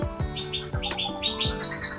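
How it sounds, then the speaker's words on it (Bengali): A garden bird calls loudly and close in a quick series of sharp, repeated chirping notes, evenly spaced, with no voices over it. "আর এই যে পাখির ডাকটা শুনতে পাচ্ছেন,"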